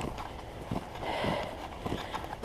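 A horse walks near a paddock, hooves clip-clopping in irregular soft thuds at moderate distance with faint background movement and no clear talking.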